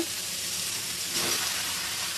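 Onion, green chili and dried shrimp fry in a pan, giving a steady, close, broadband sizzle with a faint stirring swell midway, no talk.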